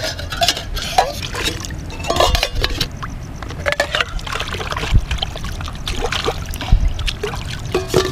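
A cooking pot being rinsed with river water at a riverside motocamping site: continuous trickling and splashing of water with scattered clinks and scrapes, close by, steady throughout with no speech.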